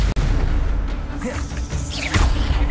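Stupefy spell cast in the video game Hogwarts Legacy: a swishing whoosh rising into a deep booming impact, layered over continuous dense game ambience.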